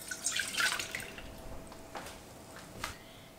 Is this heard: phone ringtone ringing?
no